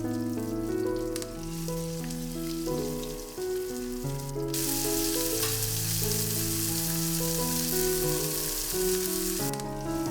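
Fish fries in a pan with a steady hiss of sizzling under continuous music, the sizzle growing louder and brighter midway through.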